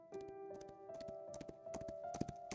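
Horses' hooves clip-clop in a steady, uneven run of taps in a forest scene from the video game Love and Deepspace, fairly faint under a sustained musical drone, with no talk.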